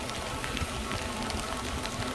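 Rain pelts steadily around a rider on a Lectric XP e-bike, a dense, close patter that continues evenly for two seconds with no voices.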